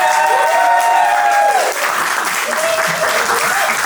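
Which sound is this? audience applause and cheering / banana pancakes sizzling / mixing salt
audience applause and cheering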